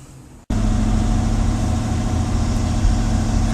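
A Mercedes 450SL engine fitted with Megasquirt fuel injection idling close up, a loud, steady low rumble that starts abruptly after a brief quiet moment and holds evenly.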